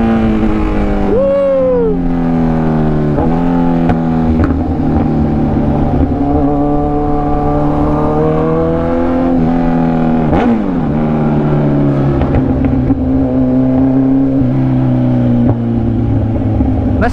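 Kawasaki Z1000R motorcycle with a full exhaust system revving up and down, loud and close, with deep harmonic engine tones rising and falling through several throttle blips and no talking.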